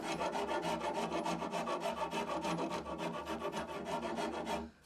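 Rasping strokes shaping the edges of a wooden longbow limb, rounding them off in a steady run of quick, even back-and-forth rubs, close and continuous before stopping abruptly at the end.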